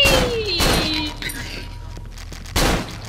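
Gunfire from the Cry of Fear horror video game rings out in loud, sharp shots, two close together at the start and another after a pause, with sound-effect tones trailing between them.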